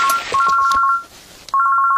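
A telephone ringback tone plays after a call is placed, with bright repeated electronic rings, then a short pause before the ringing starts again, loud and close.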